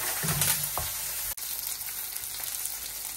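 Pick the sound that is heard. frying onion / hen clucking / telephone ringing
frying onion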